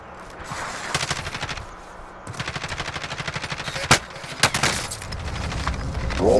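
Automatic gunfire in the battle royale game Warzone: rapid rattling bursts of shots come in long strings, broken by a few louder, sharper single cracks and brief pauses.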